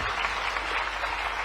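A large audience claps steadily and evenly at the IBCA pre-summit event in Bhopal, a dense unbroken wash of applause filling the hall.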